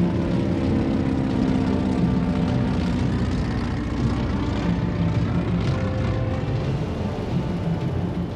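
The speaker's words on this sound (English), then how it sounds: "having flown twice over the area, the Halifax is just slightly off course." Halifax bomber aircraft flying overhead in poor visibility, a continuous loud propeller engine drone that holds steady throughout.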